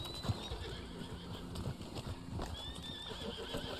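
A horse in the video game Red Dead Online whinnies in high wavering neighs near the start and again later, with hooves clip-clopping and scattered game ambience between.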